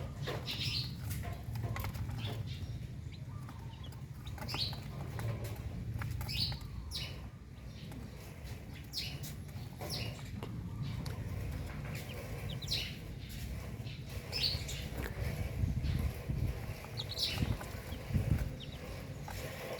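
High, thin peeping of a brood of eleven chicks recurs in scattered bursts over a long stretch, with a constant low hum and occasional rustling underneath, the chicks kept in a small space under a brooder heat lamp.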